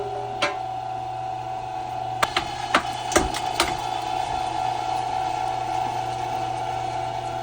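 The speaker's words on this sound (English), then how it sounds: "you never really want to start off a meat grinder with it empty" An electric meat grinder works through partly frozen beef for homemade hotdogs with a steady mechanical whine, punctuated by a handful of sharp clicks and clunks as pieces feed through.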